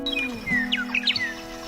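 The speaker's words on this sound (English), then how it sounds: "There was nothing bird-brained about selecting the western meadowlark to represent Kansas," A western meadowlark sings on the Kansas prairie, giving a quick run of clear, falling whistled notes and fluttering chirps over a steady low hum, with no voices.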